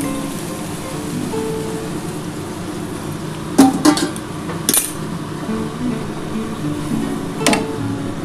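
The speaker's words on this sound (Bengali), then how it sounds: "এবার আমি ডালটা ঢেলে দেবো।" Moong dal is poured into fried onions in a hot pan, making a steady crackling hiss with a few sharp clinks and splashes.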